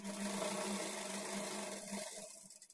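A sewing machine runs steadily, putting a double stitch along the sleeve side of a lined blouse, a continuous close whirring hum that slows and stops near the end.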